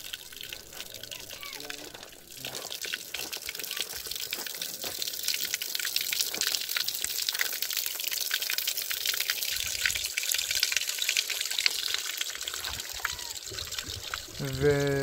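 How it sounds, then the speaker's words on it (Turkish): Water trickles steadily from a tap on a public drinking fountain, part of a water supply setup with a 2,500-litre storage tank in South Turkestan, a continuous close splashing stream under an outdoor speaking voice. "Üç ayrıyeten su çeşmesi."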